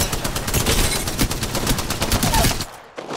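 Rapid automatic gunfire in a first-person shooter video game, loud and close, pounding in dense continuous bursts for nearly three seconds before cutting off abruptly.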